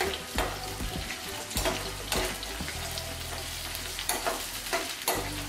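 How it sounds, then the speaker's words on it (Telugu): Green chillies and curry leaves with onions frying in a pan for prawn curry: loud, close sizzling with repeated bursts of spatter as the mix is stirred, and no talking. "అండ్ దెన్ పచ్చిమిరపకాయలు, కరివేపాకు కూడా అన్నీ వేసుకొని మంచిగా ఫ్రై చేసుకుందాం."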